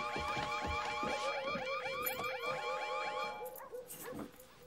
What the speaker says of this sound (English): Mrs. Carlisle, that emergency alarm is to be used that immediately.